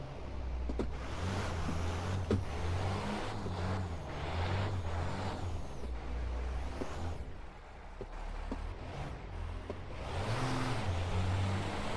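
A turbocharged car in the racing game Assetto Corsa drifts with its engine droning and revving steadily throughout, dipping briefly in the middle before climbing again, with no talking.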